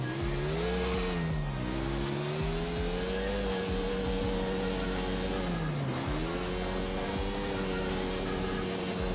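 A KTM RC 390 motorcycle in GTA 4 pulling a wheelie, its engine droning steadily at high revs with a sustained tone that dips briefly twice and climbs back, loud and continuous with no talk.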